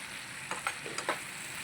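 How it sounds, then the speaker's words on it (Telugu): Cumin and mustard seeds tempering in hot oil in a pan, a continuous close sizzle broken by a few quick spoon scrapes as the seeds are stirred. "పోపు దినుసులు జీలకర్ర ఆవాలు వేసినాను ఫ్రెండ్స్ ఒకసారి తిప్పుదాం"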